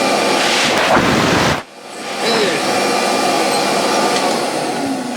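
A vintage Electrolux XII (Model 12) canister vacuum cleaner from the 1930s, refurbished, runs loudly and steadily as a broad whooshing roar. It cuts out briefly, then restarts and holds its drone to the end.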